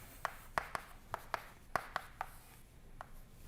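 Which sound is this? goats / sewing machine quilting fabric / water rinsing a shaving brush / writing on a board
writing on a board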